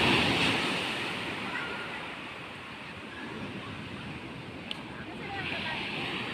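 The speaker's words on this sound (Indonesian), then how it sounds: "air laut lagi pasang bosku." Sea waves at high tide wash against the shore in a broad, rolling surge with wind buffeting the microphone, swelling and easing over several seconds.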